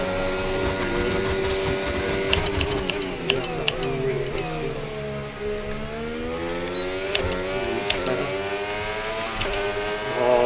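F1 car engine in a racing video game, a steady high whine with pitch sweeping down through repeated downshifts under braking, then climbing again, with sharp gear-change blips throughout.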